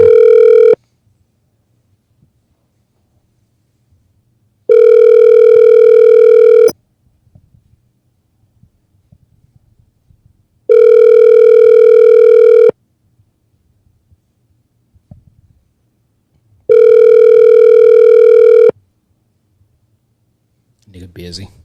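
A telephone ringback tone sounds in long, evenly spaced two-second bursts, three in a row with silence between, and faint noise in the pauses.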